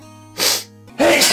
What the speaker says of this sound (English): Partially because I can't stop sneezing now.